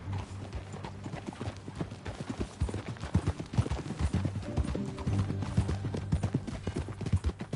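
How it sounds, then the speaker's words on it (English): Horse hooves clip-clopping at a steady walking rhythm on a ranch, continuous and fairly close with faint background sounds. "That a new horse?"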